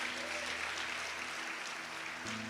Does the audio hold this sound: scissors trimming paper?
no